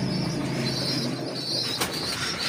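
Racing pigeons shuffle and flutter in a loft after feeding, with soft wing flaps, faint coos and a brief sharp burst of movement, all close and continuous.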